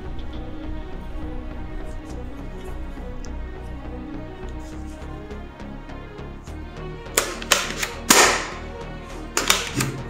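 Toy M45 police pistol firing soft bullets, giving about four or five sharp, close snapping shots in a quick cluster near the end over a steady background of music.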